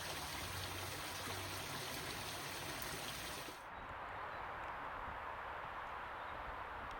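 Natural spring water flowing steadily on the grounds of Fontainebleau castle in France, a continuous close stream and trickle; a high steady hiss in the first half stops, leaving the softer babbling flow alone.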